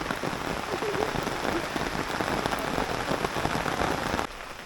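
Steady rain pattering densely on a surface, close and fairly loud, cutting down sharply just before the end.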